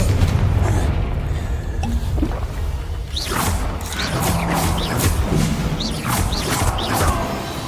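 Confringo blasting spell in the video game Hogwarts Legacy: loud, rumbling fiery blasts with crackling debris and several whooshing bursts, layered over dense game ambience.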